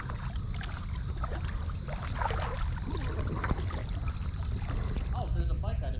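A kayak glides along a creek with soft splashes and water swishing from paddle strokes under steady wind, while people talk nearby.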